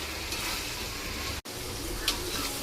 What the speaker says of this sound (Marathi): आता टाकते पातीचा कांदा। चला येही परतून घेते।